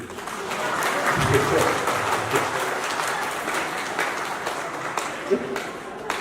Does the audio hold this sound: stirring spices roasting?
no